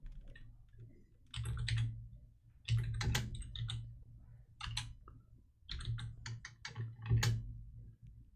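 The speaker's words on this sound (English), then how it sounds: "Except for typing." Keys clatter on a computer keyboard during a live podcast stream, coming in irregular bursts of clicks with short pauses between, fairly close and clear, with no talk over them.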